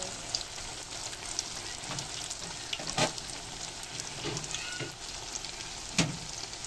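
Banana fritters frying in hot oil give a steady close sizzle with scattered pops and a few sharper crackles when the pieces are turned; no one speaks.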